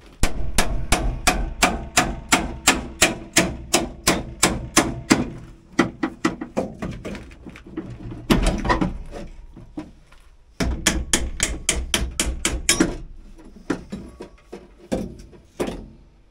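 Repeated sharp metallic impacts in rapid bursts as a hammer drill works a stuck bolt on an old Ford backhoe's power steering, a hammering rattle that starts and stops several times with short pauses between runs.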